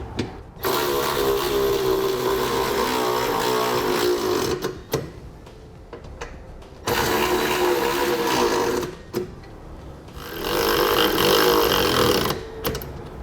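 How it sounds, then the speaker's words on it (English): Power ratchet with a 1/2-inch socket spinning 1/2-inch nuts down onto factory-welded 8mm studs on a 2016 Ford F-150 while fitting Westin E-Series round nerf bars; three loud, steady buzzing bursts of several seconds each, close up, with short pauses between them. "using our 1/2-inch socket, we'll start by tightening down our 1/2-inch nuts onto our 8mm studs"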